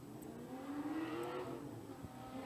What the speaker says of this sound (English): So start your engines.